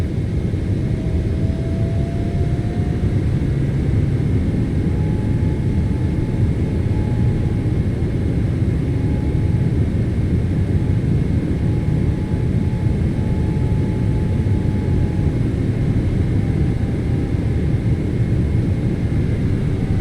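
Boeing 777 engines climbing in a flight simulator produce a steady, broad jet rumble with a faint whine held throughout, constant and unbroken.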